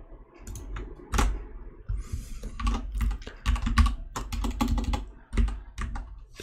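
Computer keyboard typing up close as code is written, irregular bursts of quick key clicks and heavier thumps, with no talking.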